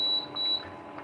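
Two quick high electronic beeps in succession from an oven control panel as the temperature is set, over faint room noise.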